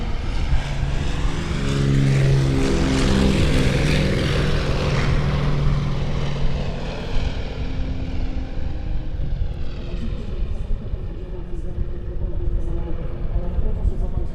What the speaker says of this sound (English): I think we're faring much better now on the takeoff roll. Million Aeress, the A-26 Invader.